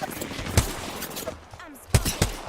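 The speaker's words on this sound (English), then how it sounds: "I'm spotted. Taking fire." Gunfire aimed at the player in the Apex Legends video game, a few sharp shots at irregular intervals against busy in-game ambience, with several loud cracks standing out near the end.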